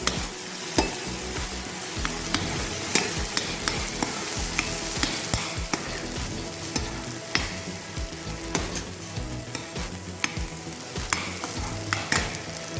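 Ginger garlic paste sizzles and fries in a pan for baingan gravy, a dense continuous crackle with frequent stirring scrapes and taps throughout, close and loud with no talking.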